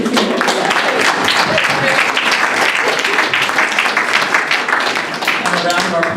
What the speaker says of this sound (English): So we can have a round of applause.